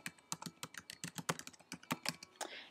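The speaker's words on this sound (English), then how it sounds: "Type in your email address" Someone typing an email address on a computer keyboard, quick irregular clicking keystrokes in a fast run, close but soft and alone.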